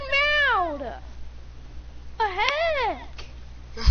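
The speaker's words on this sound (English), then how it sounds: "You should meow!" A house cat hiding under a bed lets out two loud, drawn-out meows close by, separated by a quiet pause, ending with a brief thump.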